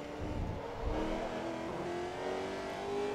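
An American sports race car in the racing game Forza Motorsport 2 revs steadily, its engine note climbing gradually at moderate loudness with no voices.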